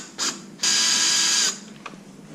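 Ratchet loosening 10mm bolts on a 2018-2023 Mustang headlight, a short clicking burst followed by a longer steady close ratcheting run, then a faint single click.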